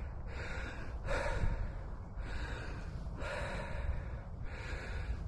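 Heavy, ragged breathing from a runner after a steep climb on a training run for the Goring Gap Ultra: loud, close gasps and snorting exhales in a slow repeating rhythm, with no talking.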